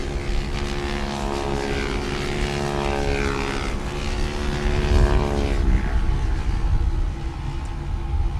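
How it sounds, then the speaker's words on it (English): Race-built Apache RTR 200 motorcycles drone loudly and continuously during a national motorcycle championship race, their engines layered together as the pitch sweeps while bikes pass close by. "These are race-built, purpose-driven Apache RTR 200s"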